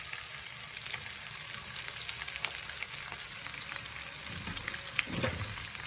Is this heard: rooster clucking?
no